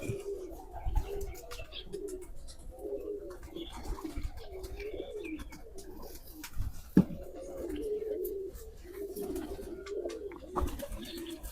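Asal chohy pigeons give soft, rolling coos close by, a quiet series of low throaty calls repeating through the stretch, with one sharp knock partway through.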